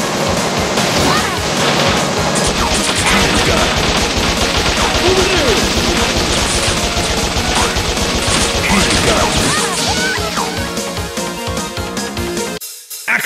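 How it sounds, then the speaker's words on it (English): Flame gun firing in the video game Bot Vice: a long, loud, unbroken roaring blast packed with crackling bursts and crashes, cutting off abruptly at the end. "Flame gun."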